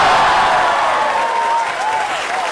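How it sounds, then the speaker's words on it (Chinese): A studio audience at a televised singers' gala applauds a guest with steady, loud clapping and some crowd murmur, while a faint voice-like tone threads through the background. "大家是不是再次用掌声跟这位熟人打个招呼呀？"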